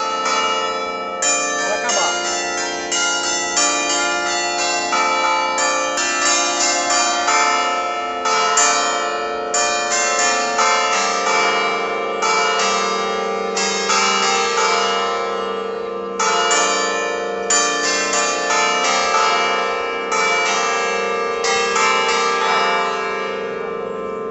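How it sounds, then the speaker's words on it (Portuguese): Church bells toll in a steady, repeating pattern of loud ringing strikes with long resonant overlap, continuing throughout. "por quem esses sinos estão dobrando"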